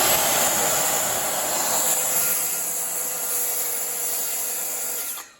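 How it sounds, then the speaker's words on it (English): A portable circular saw notches a wooden window sill in one long, loud, steady cut that runs about five seconds without a break, then cuts off sharply at the end. "I'm gonna plug in my circular saw and cut as much out first of all with my portable circular saw"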